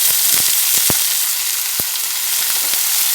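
Steady, loud sizzling of finely chopped eggplant frying in hot oil, with a few light clicks and scrapes of a utensil in the pan.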